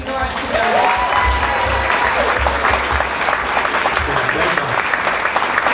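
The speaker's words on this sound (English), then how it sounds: "Can we give a big round of applause to Laura" An audience at a theme park Q&A event bursts into loud, sustained applause, dense and even, with a voice briefly audible at the start.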